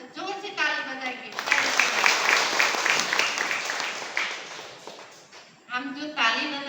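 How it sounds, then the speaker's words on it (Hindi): Church congregation clapping hands together in a loud, dense burst that runs for several seconds, with a preacher's voice before and after it. "आइए आप सब के लिए हम जोर से ताली बजाएंगे।"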